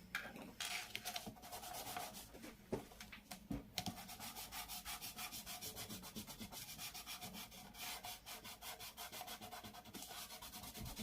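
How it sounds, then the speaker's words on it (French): An eraser rubs back and forth on paper while scrapbooking, making faint, close, rapid scratchy strokes in an uneven rhythm, with a few louder scrubs early on followed by steady fast rubbing, and no talking. "Je vais gommer tout ça."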